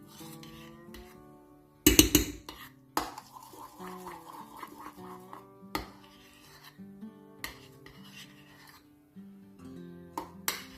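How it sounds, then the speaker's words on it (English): A metal spoon scrapes whipped candle wax from the edges of a container, giving rasping scrapes and knocks in irregular bursts, with a sharp clatter near the start, over steady background music. "I'm just gonna grab my spoon here, just warm it just a little bit, not to shock the wax too much. Just gonna scrape the edges down."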